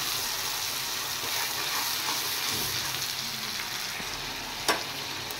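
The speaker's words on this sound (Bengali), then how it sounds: "এবার এই পেঁয়াজটা আমি একটু ভালো করে ভেজে নেব" Onions sizzle steadily in hot oil in a pan for pabda fish curry, a dense continuous frying hiss close up with a brief clink near the end and no talk.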